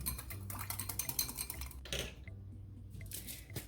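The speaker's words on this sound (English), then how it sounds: "So we're gonna whisk this up real quick." A whisk clattering quickly against a bowl while mixing a salad dressing with Dijon mustard, producing rapid, close, quiet metallic ticks and scrapes with a short pause near the end.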